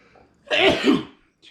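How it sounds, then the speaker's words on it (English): A single sneeze from an adult man, loud and close, a short breathy burst lasting under a second. Other speech comes just before it in an indoor talk about painting car wheels. "hold on, I'm gonna sneeze."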